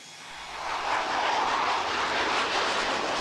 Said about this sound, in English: Once the aircraft has left the ground,